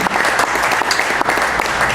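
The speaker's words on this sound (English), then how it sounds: "Please give a big round of applause to the arts advocate, Homer Jackson." A crowd gives a loud, dense round of applause for an arts advocate, with continuous overlapping claps filling the space without pause.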